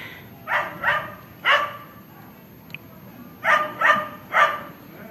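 A dog barks in two short bursts, then a pair and a triple of barks after a pause; moderately close, with faint background noise.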